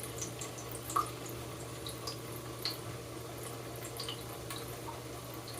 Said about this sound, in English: it is so soothing to just fall asleep listening to the sound of water